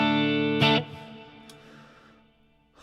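An electric guitar through a Soldano amp, with tremolo, delay, reverb and light compression, rings out a chord with shimmering, pulsing tremolo and trailing delay echoes in a reverberant wash, decaying slowly before another strum at the end.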